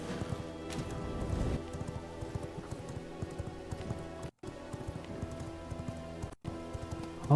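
Steady clip-clop of horse hooves at an even trot in the video game V Rising, moderately loud and continuous over a faint background hum, with two brief dropouts.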